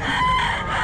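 A Boston Roundhead rooster crows once, loud and close, in a steady sustained call over the busy background noise of a crowded pet market.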